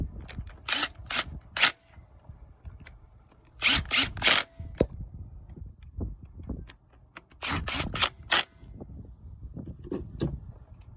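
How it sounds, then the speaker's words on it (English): Metal hub assembly being fitted onto a 2015 Ford F350 during a hub bearing and brake job, with three clusters of sharp scraping and clanking bursts over low rumbling handling noise, close up with no talk. "Now let's put the hub in."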